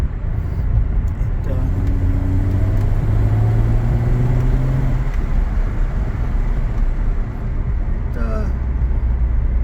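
A supercharged Chrysler Crossfire SRT6 engine hums and rises through the gears as the car accelerates, heard from inside, with a voice talking over the steady road noise.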